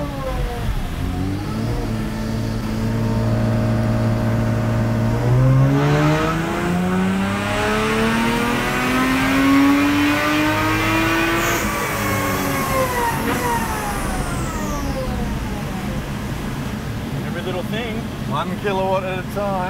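A Lexus IS200 engine revs hard on a dynamometer during tuning runs, a loud sustained climbing whine that rises steadily in pitch, drops back and climbs again, with little pause.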